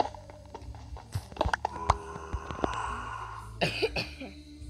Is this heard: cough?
yes